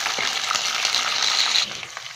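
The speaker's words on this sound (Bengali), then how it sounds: "এবার আমি আদা বাটা দিয়ে দিচ্ছি" Ginger paste hits hot oil in a frying pan and is stirred, giving a steady bright sizzle with scraping spoon strokes, close and continuous, with no talking.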